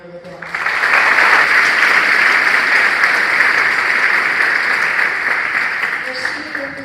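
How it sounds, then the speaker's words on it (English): Audience clapping at a high school awards ceremony in Stuttgart: a sustained burst of applause from a crowd that swells quickly, holds steady for several seconds, then slowly tapers. "Please give them a round of applause."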